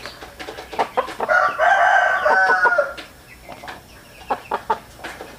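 A hen clucks in a series of short, sharp calls, then lets out a longer drawn-out squawking cry in the middle before returning to scattered clucks, fairly close and clear over a quiet background.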